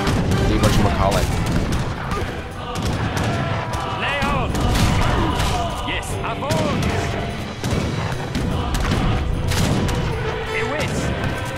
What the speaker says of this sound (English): I'm just gonna keep the cannons focused on the whatchamacallit